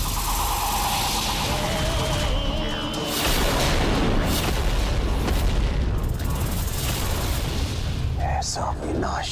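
A loud, sustained destructive explosion from a mythological TV drama rumbles and roars through the whole clip, with heavy low booms and crackling debris under a dramatic mix.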